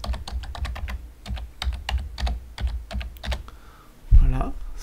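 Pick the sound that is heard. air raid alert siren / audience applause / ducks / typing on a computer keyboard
typing on a computer keyboard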